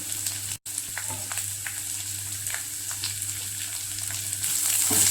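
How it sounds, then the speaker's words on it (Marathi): Carrots and sweet corn roasting in a pan, with a constant close frying sizzle and light scraping stirs throughout that swell slightly toward the end, with no voices. "गाजर आणि स्वीट कॉर्न भाजून घेऊया।"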